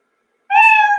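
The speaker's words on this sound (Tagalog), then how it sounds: "pag narinig nyo na yung pusa na nag-meow, yun, success." A single short, clear cat meow from a computer program's success sound, starting abruptly after half a second of silence, loud and close.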